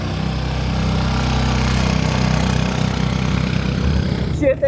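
A motorcycle engine runs steadily with a loud, rough, close putter carrying a rider, then cuts off abruptly near the end as a voice shouts briefly.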